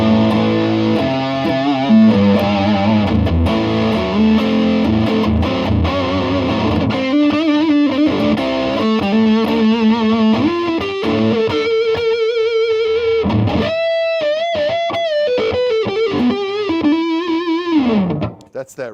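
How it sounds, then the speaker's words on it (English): An electric guitar plays through a Reeves Gabrels Dirtbike Royale fuzz pedal, giving a loud saturated tone. A continuous run of notes and chords lasts about nineteen seconds and ends in a sustained fading note, with no voice over it. "Heavy distortion, mild overdrive, heavy fuzz, clean sounds."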